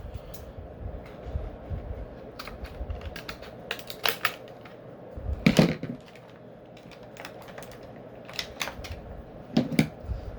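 Plastic packaging on a Masters of the Universe Origins toy is cut open up close, producing a run of sharp, crisp clicks and crackles at an uneven pace, with no voices.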